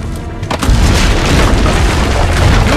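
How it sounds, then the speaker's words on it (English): Cannon fire in the Assassin's Creed Brotherhood video game, at a castle rampart: a heavy booming blast after a brief quieter lead-in, followed by a loud, sustained rumbling roar that fills the rest of the moment. "Use the cannons above the rampart."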